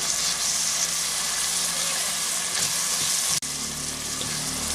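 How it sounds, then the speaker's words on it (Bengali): Masala paste with cumin powder and a splash of water frying in a pan while being cooked down for a restaurant-style rice dish, a steady close sizzle throughout with a brief clatter near the end. "অল্প করে একটু জল দিয়ে এই মশলাটাকে ভালো করে কষিয়ে নিচ্ছি"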